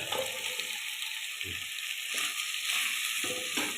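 Beans with rock salt sizzle as they are sautéed in a pan, a bright continuous frying hiss broken by repeated scraping stirs of a spatula.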